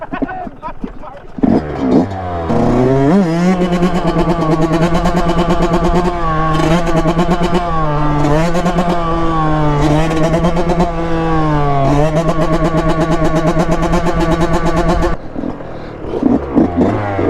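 Two Yamaha YZ dirt bikes, a 2020 and a 2006, race off the line, their engines revving hard through rising and falling shifts, loud and near, with people talking briefly before and after.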